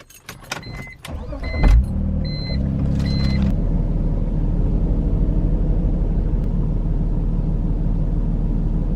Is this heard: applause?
no